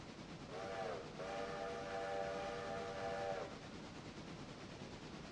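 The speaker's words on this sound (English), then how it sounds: "1 or 2 sets of squealing wheels is not bad" Railroad car wheels squeal against the rails in a sustained high metallic whine lasting a few seconds before cutting off, over the low rumble of a passing train.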